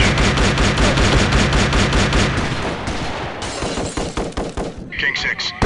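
Sniper gunfire in Delta Force: Land Warrior, heard as loud, dense rapid gunfire hammering close by in an almost continuous rattle, which thins into separate cracks and impacts toward the end, with voices shouting over it.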